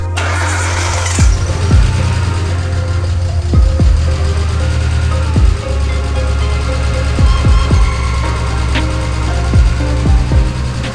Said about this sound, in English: it's so good to see this car running